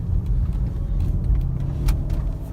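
A 2013 Mercedes GL450 setting off on a short night drive, with a steady low engine and road rumble up close and a few light clicks and rattles inside the cabin.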